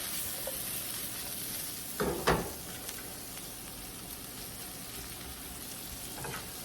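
Vegetables sizzle steadily in a hot pan alongside shrimp, a constant crackling hiss punctuated by a couple of brief scraping stirs about two seconds in, with no talking.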